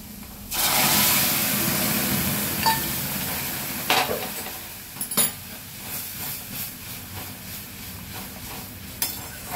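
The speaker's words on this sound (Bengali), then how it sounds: "এবারে ডালটা আমরা ছড় দেব।" Spices are tempered in hot oil and poured into a masoor lentil dal cooked with drumstick greens. A loud burst of sizzling hiss slowly fades, broken by a few sharp clinks of a utensil against the pot, with no voices.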